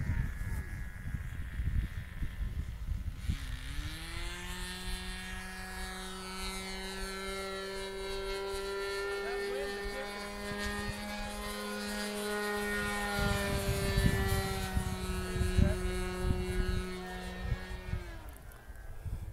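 Radio-controlled model airplane engine flying over a ranch airfield, a loud, sustained buzzing whine at high throttle that rises and bends in pitch as the plane passes, with outdoor wind noise underneath.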